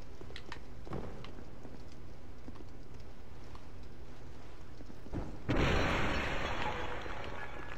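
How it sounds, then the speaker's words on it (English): A loud burst erupts late in a Dark Souls II game scene, a broadband explosion blast after several seconds of low ambient rumble and scattered thuds. "That wasn't the entertaining explosion I was hoping for."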